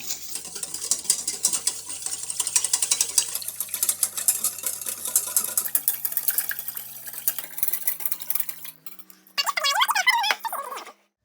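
Warm water and milk are stirred in a bowl with a spoon, giving quick repeated clinking and swishing strokes, close and clear, ending in a brief watery swirl.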